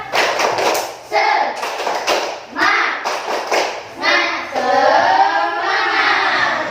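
A school class performs the rhythmic 'tepuk semangat' spirit clap, bursts of hand claps and thumps alternating with children's voices and a teacher speaking throughout.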